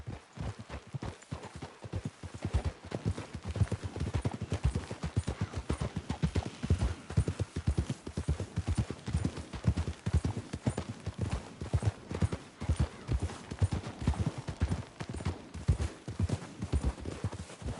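Steady clip-clop of horse hooves in Red Dead Redemption 2, several animals trotting in a continuous brisk rhythm, fairly close, with no voices over it.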